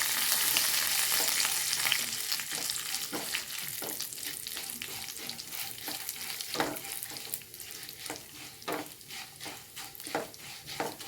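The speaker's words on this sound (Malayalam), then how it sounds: "കരിവേപ്പില ഇട്ട് കൊടുക്കാം ഉണ്ടല്ലേ നാളികേരക്കൊത്ത് മൂത്ത് വരുന്നുണ്ട് കേട്ടോ" Coconut pieces and curry leaves fry in a pan with a soft crackling sizzle, punctuated by intermittent scrapes of a spatula stirring, fairly quiet and close, no voices.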